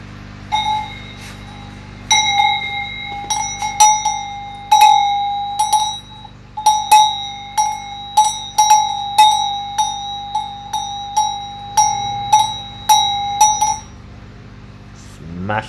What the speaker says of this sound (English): Smash them bells.